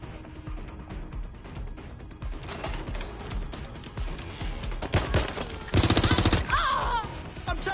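Gunfire in Watch Dogs: Legion, a dense mix of rapid shots and automatic bursts that builds into a loud, sharp volley near the end, close and chaotic, with music and game noise underneath.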